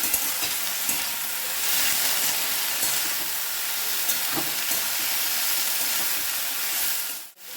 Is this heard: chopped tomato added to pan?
yes